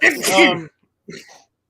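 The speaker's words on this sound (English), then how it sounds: "Bless you." A single sharp sneeze from a person close by, followed after a short pause by a brief spoken word.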